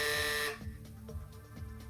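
A quiz show buzzer on a sports radio broadcast blares once for about half a second, a loud harsh tone that cuts off into quiet studio background.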